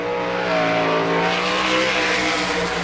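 A sprint race car engine at the Western PA Speedweek in Pittsburgh, All Star Circuit of Champions, roars steadily on a qualifying lap, with loud sustained harmonic drone and slight pitch shifts, no talk.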